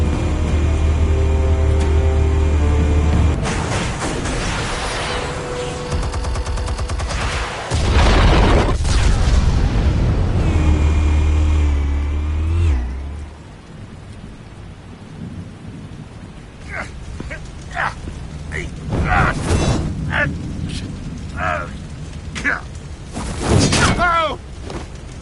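Explosives firing in the Batman Telltale video game: heavy rumbling booms and blasts dominate the first half, then fade into quieter scattered clanks, cracks and debris, with a voice speaking briefly near the end.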